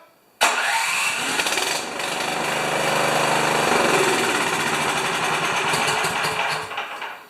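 A 30-inch YardWorks snowblower engine fires up abruptly via its starter and keeps running at a steady, loud, buzzing clatter close by, fading slightly toward the end.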